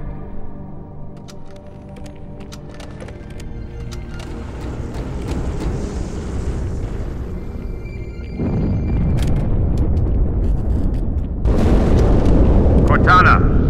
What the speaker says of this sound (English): That explosion came from inside the Athens.